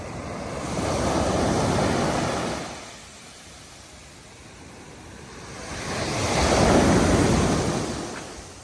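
Night-time sea waves roll onto the beach at San Juan, Batangas, with two long surges of broad, rushing surf separated by a quieter lull. The surf is close and fairly loud, with no talking.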